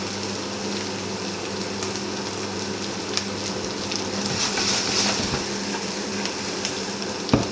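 Garlic and courgettes fry in a pan with a steady, close sizzle, a continuous crackling hiss with faint stirring clinks and no talk.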